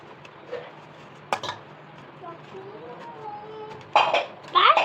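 Boiled potatoes being smashed in a pot for pani puri filling, with a few sharp utensil knocks against the vessel and a louder clattering burst near the end, close by.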